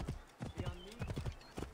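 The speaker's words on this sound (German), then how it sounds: "Verwirrtes Pferd." Horse hooves clip-clopping in the video game Assassin's Creed Origins, a quick uneven run of hoof strikes close up, mixed with faint snorting and game ambience.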